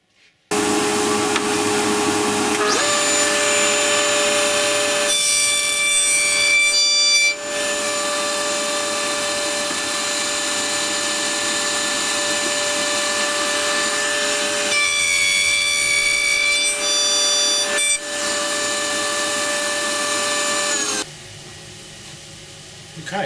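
A router cuts dovetails in wood on an Incra jig, its steady high motor whine running loud for most of the pass, with two brief dips where the cutter eases, then it winds down near the end.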